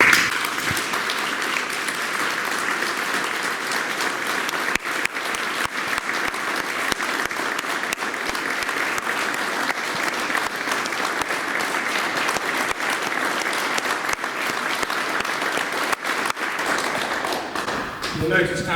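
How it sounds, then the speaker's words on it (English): Long, sustained applause from a crowd at a 24-hour slot car Le Mans race event, a dense continuous rattle of clapping hands holding steady for well over fifteen seconds, with a few voices mixed in. "30 seconds of applause for Mr."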